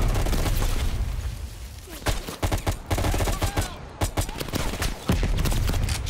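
Irregular bursts of gunfire in Call of Duty: Cold War, sharp close shots scattered over a rumbling battle background with muffled in-game voices mixed in.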